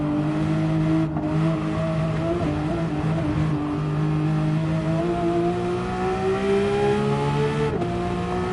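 A Porsche race car engine in Gran Turismo 7, a sustained high-pitched whine that climbs steadily in pitch as it accelerates, with a couple of brief dips like gear shifts, loud and alone.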